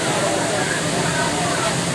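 Bolinao Falls, a fairly tall waterfall in Bolinao, Pangasinan, pours into deep blue water with a steady, dense roar close by, with faint background chatter.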